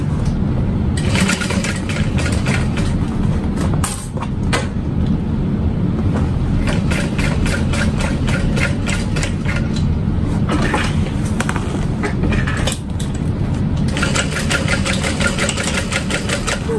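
A sewing machine top stitches a Louise Barrel Bag in close, loud bursts of rapid mechanical whirring, stopping and restarting several times over a constant background hum.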